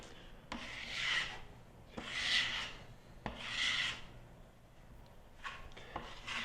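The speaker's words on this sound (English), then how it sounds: "you just want to sand it down so it's nice and smooth" Hand sanding of dried spackle on an indoor wall, heard as three or four close, steady rasping strokes, each about a second long, with short pauses between them and no talking.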